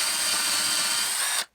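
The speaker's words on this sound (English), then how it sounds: "For the viewers, actually a hand drill. It looks like an egg beater." An egg-beater style hand drill bores a roughly 3 mm hole into wood for a puzzle project, giving a steady, dense whirring grind that runs close and loud for about a second and a half before stopping abruptly.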